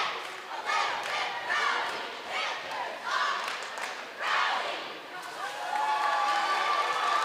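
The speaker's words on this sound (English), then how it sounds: "here's our Panther cheer squad" Panther cheer squad at a girls high school volleyball match, Oregon versus DeForest, chanting and yelling in rising bursts amid crowd noise in a gym, moderately distant with shouted calls and a whistle-like tone near the end.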